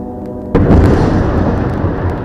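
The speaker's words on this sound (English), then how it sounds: "Now the gunshots are getting closer, closer, closer to the end." A heavy explosion from the war in Gaza bursts in suddenly after a low hum, followed by a loud, rumbling roar that lingers and slowly settles.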